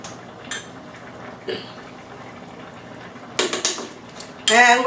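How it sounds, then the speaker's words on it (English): Chickpea slurry being stirred into creamy wild rice and mushroom soup in a pot, with faint scrapes and clinks of a utensil against the pot and louder metallic knocks toward the end, over a low background hum. "Just stir that in."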